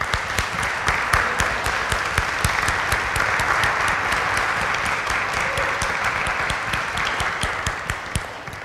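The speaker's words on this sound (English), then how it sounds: "this applause is to say good morning and welcome to everybody in the house today." Steady, dense applause from a church congregation at a Sunday morning service fills the room evenly from start to finish, with hardly any voices.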